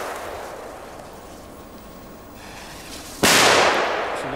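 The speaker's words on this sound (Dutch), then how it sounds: "Ja, wel goede knallers hoor." Firecrackers set off in Belgium: a rumbling, crackling stretch is cut by one sudden, very loud blast near the end that booms and lingers as it fades.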